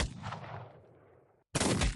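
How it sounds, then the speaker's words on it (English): A single rifle shot rings out in the Mordheim video game, loud and sharp with a long fading tail, followed by another burst of noise. "I should be able to get a shot off with my rifle"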